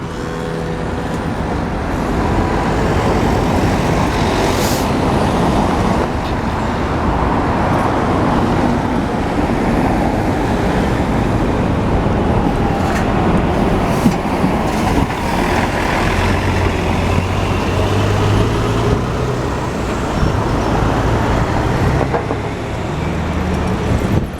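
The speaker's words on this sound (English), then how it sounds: "And sorry about this traffic noise." Dense road traffic rumbles near Place de la Concorde in Paris, with cars, trucks and buses passing. A continuous loud wash of engine and tyre noise carries on without a break, with passing vehicles swelling now and then.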